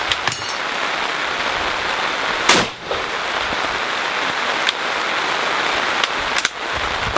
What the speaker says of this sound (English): I'm going to load the last round out of the clip into the gun, and you'll see the clip fall out the bottom here